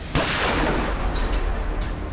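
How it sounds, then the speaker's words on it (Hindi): A single gunshot is fired inside a car in a crime drama scene. One sharp, loud crack is followed by a dense, reverberant rumble that slowly fades. No voices. "अभी अभी गोली चलने की आवाज आई है गाड़ी के अंदर से।"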